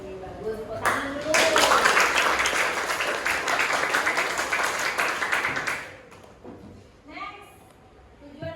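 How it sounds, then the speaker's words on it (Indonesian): A classroom of students claps for several seconds, a loud dense patter of many hands that stops abruptly, followed by quieter room sounds and brief voices. "Tepuk tangan dulu."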